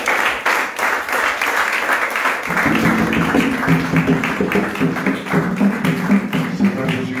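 A church congregation applauds and cheers in praise of the Lord Jesus, a dense, steady wash of clapping that swells and holds, with voices rising in the mix from midway on.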